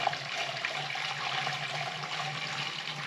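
Water pours steadily into a Caterpillar D4 tractor radiator with a constant splashing rush, close up and unbroken for a few seconds, no talking.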